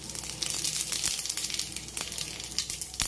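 Cumin seeds sizzling in hot oil for veg pulao, a loud, steady crackling hiss with sharp pops scattered throughout and no talking.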